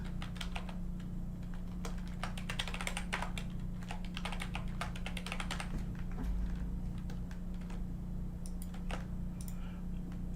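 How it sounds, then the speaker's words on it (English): Fingers typing a password on a computer keyboard, bursts of close, rapid clicking that thin out toward the end, over a steady low electrical hum, with no one speaking. "Type your password in twice."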